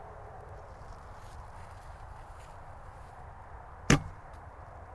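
An arrow shot from a bow strikes a target with a single sharp, close impact partway through, against a quiet outdoor background.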